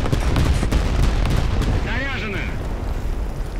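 Video game gunfire in a multiplayer match, rapid sharp shots and bursts crackling close and loud through a busy mix of effects, with no talk.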